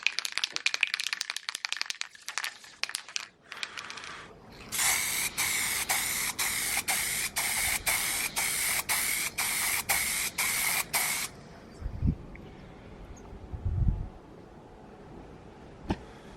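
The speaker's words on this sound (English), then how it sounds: "it's easy to spray, but it would take half a can probably." Steady pressurized hiss of a spray paint can spraying MDF, running continuously for several seconds, preceded by short rattling bursts and followed by a few dull knocks.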